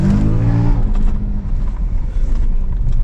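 An Audi A6 automatic with a burnt-through exhaust flex pipe, driving: a loud, close, low engine rumble holding a steady drone throughout, with no voices.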